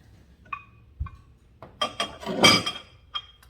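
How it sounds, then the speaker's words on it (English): Glass canisters in an antique shop clink and rattle against each other, with a few light separate taps followed by a brief, busier burst of clattering glass, close by. "some canisters, some glass canisters."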